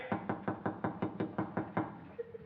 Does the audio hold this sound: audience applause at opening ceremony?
no